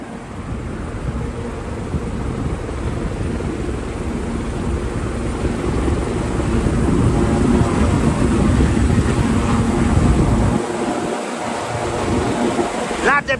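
A helicopter at a Manhattan VIP heliport on West 30th Street drones with a steady rotor and engine roar, growing louder midway before briefly dipping, heard from fairly close outdoors in snowy weather.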